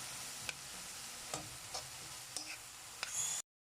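Eggplant sizzling and frying in a pan, a steady soft hiss with occasional faint utensil clicks and taps, fairly quiet and continuous before cutting off abruptly.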